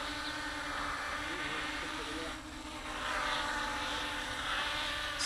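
A 200 size quadcopter drone hovering, a steady high buzzing whine of small propellers with a constant tonal hum, dipping briefly midway before holding level again.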